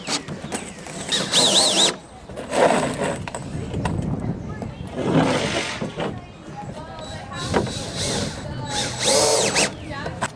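A power drill drives screws into raft decking over 2x4 supports, with several short whirring bursts of the driver close by, separated by brief pauses and handling noise, while a person talks throughout.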